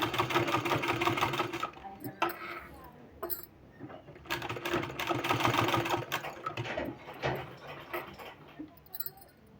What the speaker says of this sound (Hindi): हमको यहाँ इस सब में सिलाई हमको इस तरह से लगाना है।